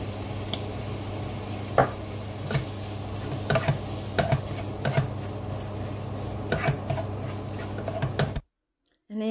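Kefta meat frying in a pan with parsley and coriander, a steady low sizzle broken by scattered clicks and taps of stirring against the pan, ending in brief silence.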